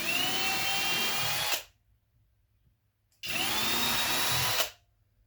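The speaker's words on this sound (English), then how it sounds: "Just drill it out" A power drill whines loudly in two separate bursts of about a second and a half each, with silence between them.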